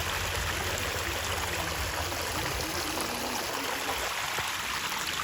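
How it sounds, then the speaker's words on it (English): A small waterfall at the top of a garden pond splashes and trickles steadily, a continuous close wash of falling water with no breaks. "This is the top of the pond here with the waterfall."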